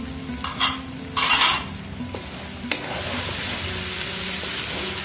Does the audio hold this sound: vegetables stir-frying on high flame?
yes